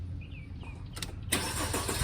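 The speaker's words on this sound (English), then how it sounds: "Car starts." A Mercedes R171 sits quiet with a faint hum, then a short crank-like burst leads into the engine catching and settling into a louder, steady running roar up close.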